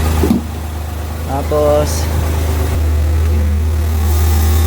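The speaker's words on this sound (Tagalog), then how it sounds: "hindi na nanginginig yung andar ng ating makina" A Multicab's engine idles with a steady low drone, now running smoothly after a misfire and shaking fault was fixed, loud and close, while someone talks over it.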